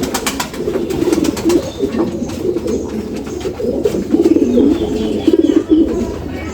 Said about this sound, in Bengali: এই দেখুন এটা আমাদের ঘুঘুর বাচ্চা